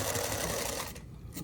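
Domestic sewing machine stitching fabric, a quick run of needle strokes that slows and pauses partway through, close and moderately loud.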